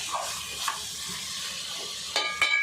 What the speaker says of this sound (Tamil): இப்போ நல்லா வதக்கலாம் மசாலா உப்பு எண்ணெய் இஞ்சி பூண்டு எல்லாம் இந்த சிக்கனில் சேரணும்